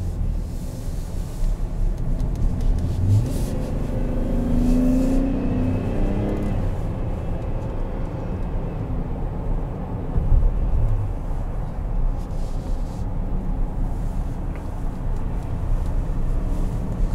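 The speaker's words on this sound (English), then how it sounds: "I engaged all-wheel drive mode, just to see how that handles everything here." A 2021 Chevrolet Traverse AWD Premier Redline Edition driving in all-wheel drive mode, heard from inside the cabin as a steady low engine and road rumble that swells slightly partway through, with no talking.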